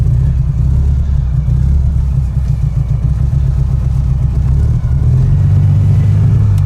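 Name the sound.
Panhard PL17 vintage car engine running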